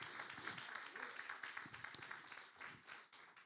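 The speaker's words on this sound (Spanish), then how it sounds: "Dar un aplauso al Señor." A church congregation claps for the Lord during a Spanish-language sermon on the Magi, a faint, fairly sustained patter of hand claps with some louder individual claps and a voice or two murmuring underneath.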